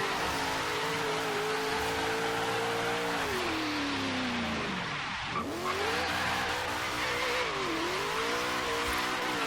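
Supercharged HSV GTS doing a burnout in Forza Horizon 3, a loud sustained engine roar under a continuous screeching tire squeal, with revs dipping and climbing through gear changes.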